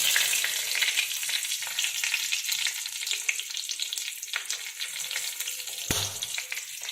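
Asafoetida and a slit green chilli crackle in hot oil on low heat, a close, steady frying hiss with light stirring clicks and a single dull knock near the end.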